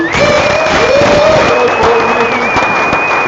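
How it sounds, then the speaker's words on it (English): Applause and cheering from an audience at a community meetup in Miami fill the room, a steady loud wash of clapping with crowd noise and some voices and whistles over it. "Let's get one last round of applause for Matt Hamilton, everybody"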